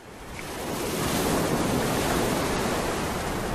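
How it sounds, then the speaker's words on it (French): Violent surf breaking on the coast near a lagoon, a steady loud roar of crashing waves and wash that swells in over the first second and then holds, with no voices. "il leur faut apprivoiser le violent ressac de la côte"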